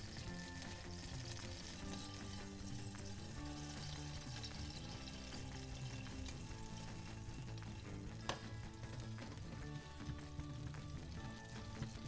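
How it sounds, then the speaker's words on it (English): Anchovies sizzle and slowly dissolve in hot olive oil in a pan, a steady dense frying crackle that continues without a break, close and fairly quiet, with no talking. "the anchovies in the oil. Slowly will dissolve."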